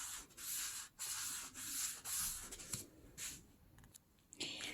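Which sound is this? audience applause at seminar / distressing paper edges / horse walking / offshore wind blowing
distressing paper edges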